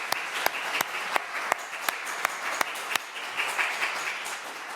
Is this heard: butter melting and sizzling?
no